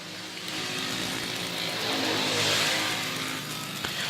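Race cars thunder around the Paradise track during the feature of the New Year's Race, a continuous broadband roar of engines that swells and fades as the field passes, heard from a distance without talk.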